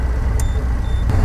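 A Bond Bug three-wheeler's engine drones low and steady under load as it climbs a hill, heard close and continuous through a short stretch.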